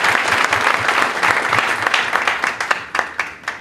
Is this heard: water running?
no